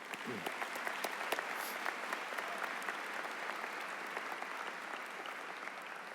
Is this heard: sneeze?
no